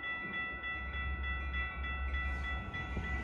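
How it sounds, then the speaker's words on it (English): Metra Milwaukee West Main Line commuter train pulling into Franklin Park station, a steady low rumble with sustained tonal horn or brake hum and faint rhythmic clicking of wheels, close and continuous throughout. "Milwaukee West Main Line train number 2236 to Chicago Union Station is now arriving"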